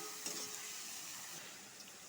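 Faint, even sizzle from a pan of frying paste with salt and turmeric in a home kitchen, a soft continuous hiss with no voices.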